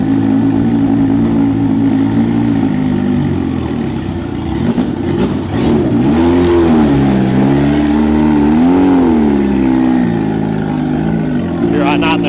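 Turbocharged Suzuki Hayabusa motorcycle idling and blipping its throttle as it is ridden onto a dyno, loud and close with rising and falling engine revs while people talk nearby.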